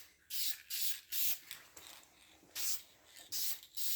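Spray paint hissing onto a 1968 Pontiac GTO 400 intake water neck, about seven short bursts of steady hiss with brief pauses between, close and alone.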